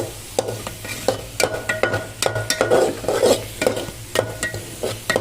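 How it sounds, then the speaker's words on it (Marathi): Masala fries in oil for chicken while a spoon stirs it briskly, rhythmic scraping and clinks over a constant close sizzle, loud and without speech. "आता अजून आपण छान असं तेलामध्ये करून घेऊया जेणेकरून मसाले छान असे तेलात भाजल्यावर"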